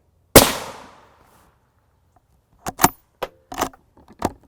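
One loud sharp gunshot fired into a Safe Life Defense FRAS Level III armor plate on a range, decaying quickly, followed by several faint clicks and rattles of handling.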